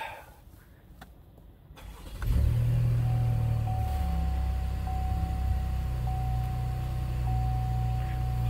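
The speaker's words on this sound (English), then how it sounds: "Okay, so let's start the car." A 2020 Chevy Traverse engine cranks after a quiet moment, catches with a brief rev and then settles into a steady, smooth idle close by under an open hood, with a faint high whine running over it.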